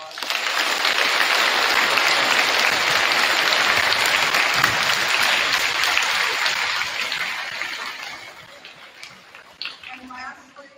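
A crowd in a high school gym gives a hearty round of applause, full and sustained for most of the stretch, then tapering into scattered claps near the end.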